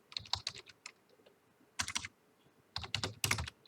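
Computer keyboard typing in short bursts of rapid keystrokes, with pauses between bursts, close and moderately loud with no talking.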